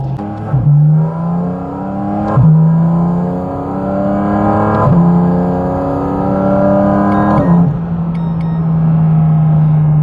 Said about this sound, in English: every time the car goes into load, it sounds phenomenal